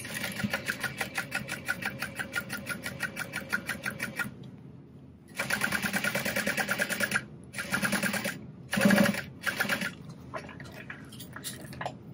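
Sewing machine basting a seam on a Mini Denver backpack, running in several close, loud bursts of rapid stitching separated by short pauses, with no voices.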